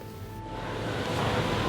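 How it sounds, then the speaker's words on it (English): Heavy rain pouring outside a church in Paris late at night after thunder, a steady broadband wash of rainfall that builds slightly and holds constant with no voices. "It's pouring with rain."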